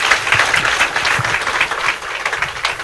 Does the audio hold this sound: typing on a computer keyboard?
no